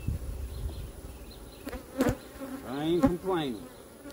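Steady insect buzzing from honey bees drones close by at a hive, with someone speaking briefly over it partway through.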